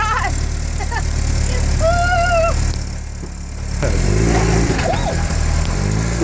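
Land Rover Series 2A engine running after a complete rebuild, a steady, loud, close mechanical idle with a rough throb that briefly dips in level before returning, with faint whistling overtones.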